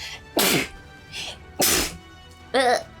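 Three sharp sneezes burst out in quick succession, loud and close, with a softer breath or murmur between them.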